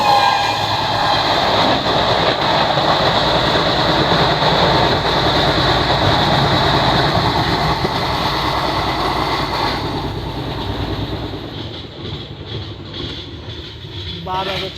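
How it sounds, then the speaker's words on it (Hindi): Koyna Express passes the Pune–Hazrat Nizamuddin Duronto Express near Talegaon, a loud continuous roar of wheels and rushing carriages filling the whole span, easing slightly toward the end as the other train clears. "अभी हमारी ट्रेन की क्रॉसिंग होने वाली है पुणे हजरत निजामुद्दीन दुरंतो एक्सप्रेस के साथ।"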